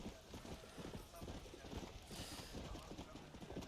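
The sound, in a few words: horse hooves in video game Red Dead Redemption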